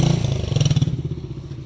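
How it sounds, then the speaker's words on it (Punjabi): A motorcycle idles close by with a rapid, pulsing engine throb and a brief clattering rattle partway through, no speech over it. "ਅਤੇ ਮੋਟਰਸਾਈਕਲ ਸਾਡਾ ਆ ਖੜਾ, ਗਰਮ ਹੋਇਆ ਹੋਣਾ ਵਾ"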